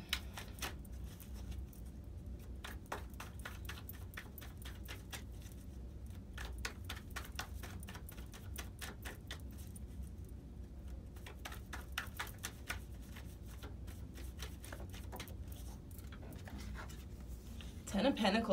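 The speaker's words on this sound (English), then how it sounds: "let's go in and shuffle this other deck" Rapid, rustling flicks and soft slaps of tarot cards being shuffled repeat steadily up close, with a voice talking quietly underneath.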